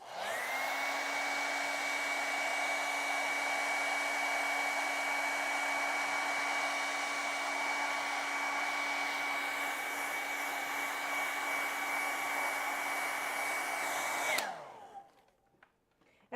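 A hair dryer runs close and loud over wet acrylic paint, a steady whirring blast with a tonal whine that holds for about fourteen seconds, then winds down and clicks off into quiet.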